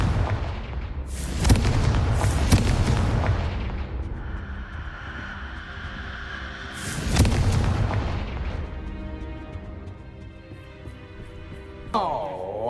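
Heavy booming blasts from the Confringo spell in Hogwarts Legacy hit in a few loud clusters, each rumbling away into a lingering hum, with sparkling magical tones near the end.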